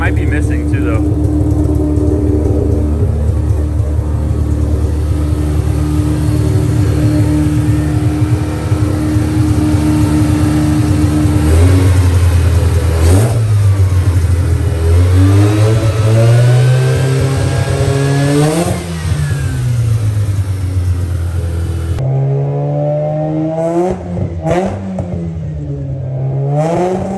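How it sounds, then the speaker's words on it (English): A Mazda FC RX7 rotary engine fitted with mufflers idles roughly, then revs up and down in several rising and falling sweeps, loud and close, with a possible misfire. "Dude, it sounds way better with mufflers."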